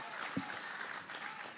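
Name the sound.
audience applause for the Prime Minister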